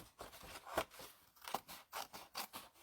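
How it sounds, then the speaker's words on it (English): Scissors snip through the cardboard flaps of an April 2021 Paper Pumpkin craft kit: several crisp cuts spaced about half a second apart, close and clear with no talking. "I'm going to cut the flaps off"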